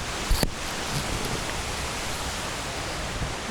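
Brook flowing along a trail near Turtleback Mountain and Bald Knob, a dense continuous rush of water heard close, with a brief thump and rustle near the start and no speech.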